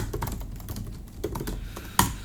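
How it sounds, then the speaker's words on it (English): Quick, irregular keystrokes on a computer keyboard, close and clear, with a sharper key press near the end and no voices. "And let's just type something in the text here."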